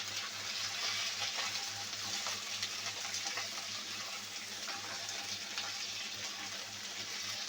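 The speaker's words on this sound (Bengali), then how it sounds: "এবার সব কিছু নেড়ে চেড়ে দেব।" Sliced green chilies, flat beans and potatoes with mustard paste sizzle quietly in a pan as they are stirred, a soft continuous hiss over a low steady hum, with no one talking.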